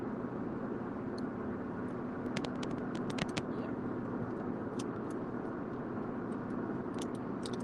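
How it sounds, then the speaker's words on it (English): Steady, loud road and engine drone inside a moving car, a constant low rumble with faint ticks and rattles scattered on top. "I feel like my car is really loud"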